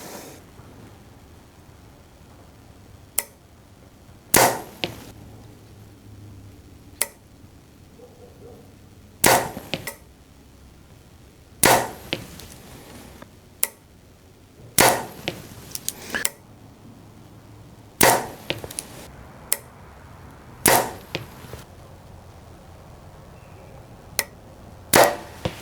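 Arrows from a bow strike a target at longer range, sharp isolated thuds and cracks spaced irregularly across a quiet outdoor background, some hits louder than others, no talk.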